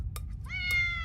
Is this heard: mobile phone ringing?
no